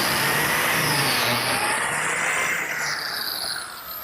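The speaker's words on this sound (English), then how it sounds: "To reinforce that miter joint, I'm cutting some slots for some biscuits." A biscuit joiner cuts slots into a miter joint for a seven-drawer wooden chest, a loud, steady motor whine close by that softens slightly toward the end, with no speech.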